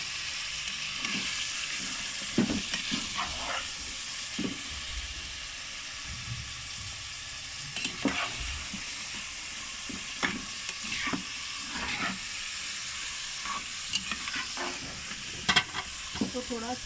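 Minced meat with onions fries in a pan for keema matar, a steady sizzle broken by repeated scraping stirs and clatters of the spoon at irregular intervals, close and moderately loud, no voices.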